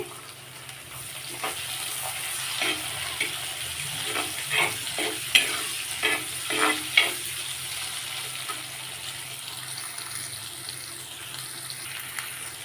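Sliced onions frying with bitter gourd in a pan for karakuzhambu, a steady sizzle with a run of scraping stirs in the middle, then settling back to a quiet, even frying hiss.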